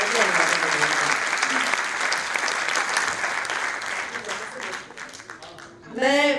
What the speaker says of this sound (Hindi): सारे लोग एक बार जोरदार तालियां बजाकर मुझे वंदना प्रारंभ करने की अनुमति दें।